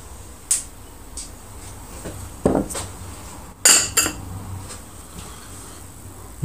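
Glazed pottery bowls from a cone 8 electric kiln are set down and knocked against one another while being unloaded, giving a few sharp, close ceramic clinks and clunks separated by quiet pauses.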